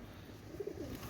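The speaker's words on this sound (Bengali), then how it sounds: "এত সুন্দর কবুতর, বাজের কবুতর" A pair of flying-breed pigeons, one male and one female, coo softly in a few short, low throaty pulses over a steady faint background hum.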